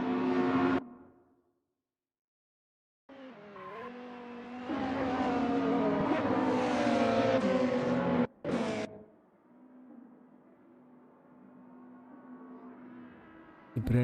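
Race car engines in a sim racing touring car game with a BMW on track, whining and rising in pitch through gear changes, broken by abrupt cutouts and a near-silent gap before a steadier engine drone returns.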